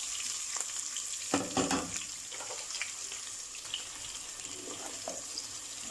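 Chopped onions sizzle in half a cup of oil with white cumin and chilies, a soft continuous frying hiss with a few louder crackling bursts and scraping stirs, no voices.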